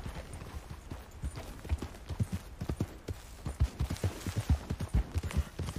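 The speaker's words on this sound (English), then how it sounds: "é muito ruim andar de cavalo aqui." Horse hooves clip-clopping while riding through mountainous terrain in Red Dead Redemption 2, a quick uneven rhythm of soft thuds, fairly faint and without talk.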